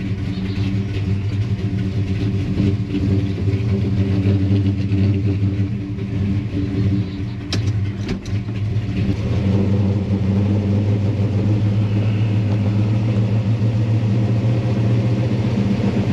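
A drag car with a tunnel ram intake topped by two Edelbrock VRS-4150 carburetors, making roughly 700 horsepower on drag radials, rumbles loud and steady, then revs up smoothly from idle with a deep, continuous exhaust drone and no talking.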